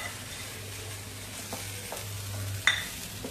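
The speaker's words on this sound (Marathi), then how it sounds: "छान असं हलवून घेऊया, एकजीव करून घेऊया।" Chutney with its tempering is stirred in a bowl, giving a few soft scraping strokes and a brief sharper clink near the end, close and quiet, with no talking.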